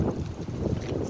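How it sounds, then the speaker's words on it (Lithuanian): Strong wind blowing outdoors, a close, rough low rumble of gusts buffeting the microphone, steady and moderately loud for about a second with no voices. "Čia vėjas didelis."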